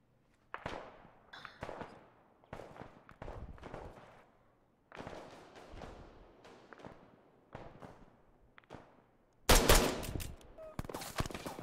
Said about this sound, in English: Can you hear them all shooting at me?